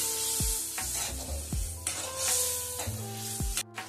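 Vegetables with a little water and green chillies sizzle in a pan while being stirred, with steady frying hiss and repeated clanks of the utensil against the metal, close and moderately loud.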